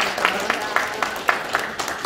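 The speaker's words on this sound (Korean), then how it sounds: "유희준 박사님께 다시 한번 큰 박수 부탁드립니다." An audience at a renewable energy discussion meeting claps briefly, a steady patter with sharp, evenly spaced accents running through the whole stretch, moderately close.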